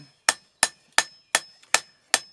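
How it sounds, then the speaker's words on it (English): A hand hammer strikes a hot forged steel Bowie knife blade on an anvil to smooth out deep marks, six sharp, ringing blows spaced evenly about a third of a second apart, close and clear with no talk. "right now I'm just kind of taking out all the really deep hammer marks from my big hammer, smoothing everything out as much as I can."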